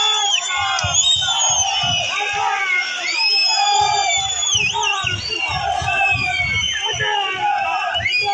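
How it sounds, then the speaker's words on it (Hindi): A large outdoor crowd at a bus stand gathering in Doda, Jammu and Kashmir, cheers, whoops and claps to welcome politician Ghulam Nabi Azad, a loud sustained roar with shouting voices and rhythmic chanting bursts throughout. "मैं चाहूँगा कि खड़े होकर और जोरदार तालियों से उनका इस्तकबाल करें।"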